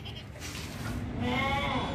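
A Deccan breed male goat kid bleats at a goat farm, a rising wavering cry building louder in the second half over a steady background hum.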